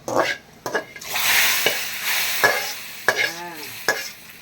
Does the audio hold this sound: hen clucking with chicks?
no